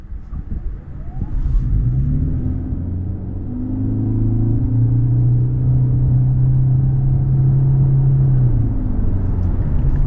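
A 2026 Toyota Corolla XLE Hybrid with a 1.8 engine pulls away under hard throttle, a steady droning engine hum rising in pitch and holding loud and close, heard from inside the car.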